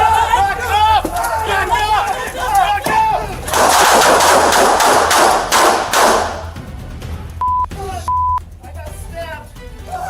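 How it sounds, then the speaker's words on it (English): Police officers firing their guns during a violent confrontation: a rapid burst of loud gunshots erupts amid shouting voices, followed by electronic beeps and continued yelling. "they had no choice but to fire their weapons to protect themselves and their fellow officer"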